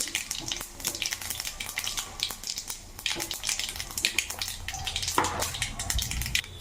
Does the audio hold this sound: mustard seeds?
yes